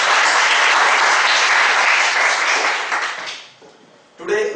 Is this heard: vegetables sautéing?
no